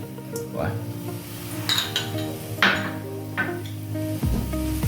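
Jaggery and grated coconut stirred in a pan, a spoon scraping and clinking against the metal in uneven strokes over a soft, steady sizzle, close and moderately loud.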